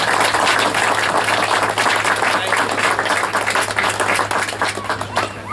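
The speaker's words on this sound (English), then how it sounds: "A round of applause for our musical entertainment" Loud audience applause for a musician at a bicentennial evening event aboard the ship Pilgrim, a dense wash of clapping that thins slightly near the end, with a steady low hum underneath.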